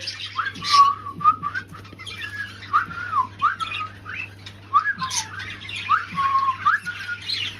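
A cockatiel gives a run of bright whistles and sharp squawks in short bursts over a steady low hum.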